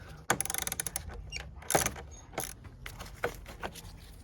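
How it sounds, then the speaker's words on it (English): Ratchet with socket extension loosening a car battery terminal nut, a quick run of close clicking ratchet strokes followed by scattered metallic clicks and handling noises. "I got my ratchet socket extension."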